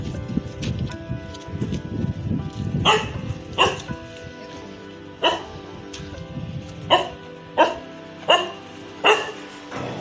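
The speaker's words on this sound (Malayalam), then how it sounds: "അവിടെ അടങ്ങിക്കിടന്ന പട്ടിയാ ഞങ്ങളെ കണ്ടപ്പോൾ ചാടി എഴുന്നേറ്റ് കൊര തുടങ്ങി" A dog barks repeatedly at a steady pace, sharp and fairly close, after a stretch of rustling and muffled background noise.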